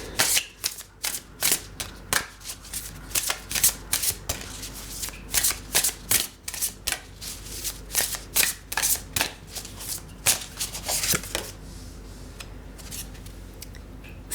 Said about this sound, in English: Let's draw a card from the Earth and Bone Oracle for that.